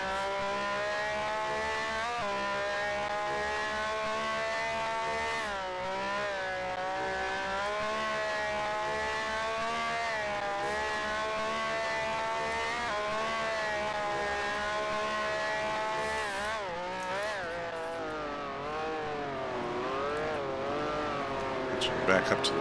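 Vintage Grand Prix race car from the Grand Prix Legends sim rolling through the pits, a steady harmonic engine whine rising and falling with throttle throughout, loud and continuous, with a brief rev flare near the end.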